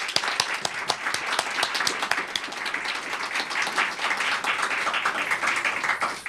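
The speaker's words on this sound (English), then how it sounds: "how about a round of applause for these two also" Audience applause at a press club luncheon, a dense, steady wash of many hands clapping throughout with sharp individual claps standing out, fairly close and loud, with no talk over it.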